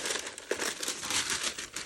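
Wrapping paper crinkles and rustles close up during the unboxing of a pair of Nike SB Dunk Low Pro sneakers, with continuous irregular crackling and one sharper tearing rustle.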